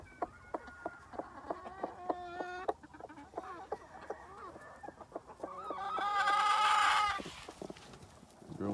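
Free-range chickens on a two-acre homestead cluck and call in short repeated bursts nearby, with a louder squawking flurry partway through and faint insect buzzing in the background.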